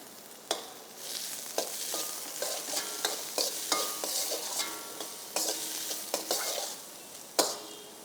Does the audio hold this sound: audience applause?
no